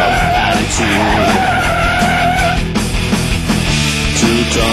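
A heavy two-ton Buick Riviera skids with loud squealing tires over a roaring engine, the screech rising and sliding continuously, close and dominant throughout.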